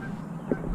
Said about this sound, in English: There are geese right outside my boat, which is sitting right there.